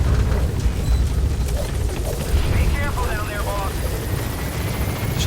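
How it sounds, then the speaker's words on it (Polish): A helicopter in the Metal Gear Solid V: The Phantom Pain video game thrums with a loud, steady low rotor drone, joined by bursts of game noise and chatter, while someone talks over it. "helikopter mamy tam od razu, na dzień dobry"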